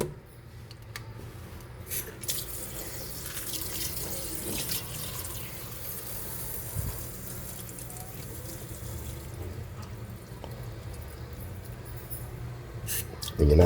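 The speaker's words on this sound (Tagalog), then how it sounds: "Lagyan na natin ng" Water flows steadily into a pot of beef soup (nilagang baka) with celery and onion, a continuous near splashing and trickling with occasional soft knocks, running alone for most of its length.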